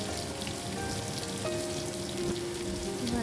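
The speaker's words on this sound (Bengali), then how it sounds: "আমি আলুটা, বাদামটা, শুকনো লঙ্কাটা তেলের মধ্যে একটু নাড়াচাড়া করে নেব" Potato pieces, peanuts and dried chilies fry in hot oil, giving a dense, steady sizzle that stays loud throughout with no pauses and no voices.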